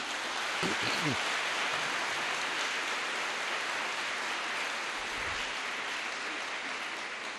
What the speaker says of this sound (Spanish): démosle el aplauso a los niños que están aquí